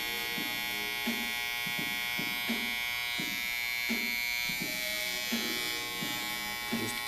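Electric hair clippers buzz steadily at close range while shaving hair during a combover haircut, with a repeating rhythm of brief strokes as the blade touches the skin.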